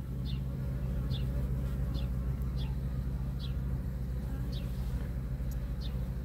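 Honey bees around an open hive during a queen check, a constant low buzzing mixed with a steady hum and short repeated high chirps at roughly even intervals.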